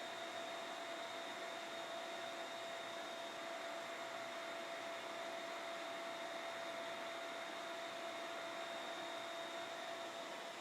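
A dust collector's vacuum motor roars steadily and loudly with a constant high whine, running unchanged the whole time with no voices.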